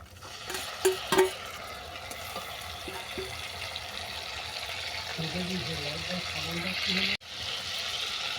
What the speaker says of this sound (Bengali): ফোড়নটা ভালোভাবে ভেজে নেওয়ার পর দিয়ে দিচ্ছি পেঁয়াজ বাটা